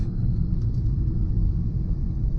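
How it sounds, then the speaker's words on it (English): A Volkswagen MK7 Golf R drives over a rough road construction surface, heard from inside the cabin as a loud, steady low rumble of road and engine noise with no breaks. "it definitely makes the car louder, and the steering is more stiff."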